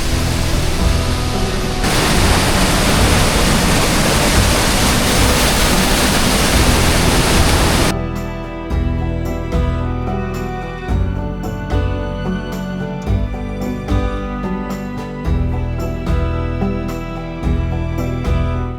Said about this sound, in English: So the next stop we just got to is Athabasca Falls